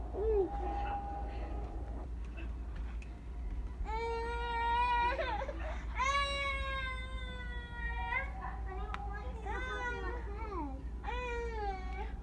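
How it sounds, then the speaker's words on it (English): A baby cries and babbles in the background in a series of rising and falling wails, with a low steady hum underneath and the cries coming in several separate bursts. "Sorry, you guys might hear my baby in the background."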